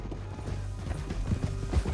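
Hooves clatter in a quick, uneven rhythm as horses ride through a canyon in Red Dead Redemption 2, close and moderately loud over a rumbling, busy background.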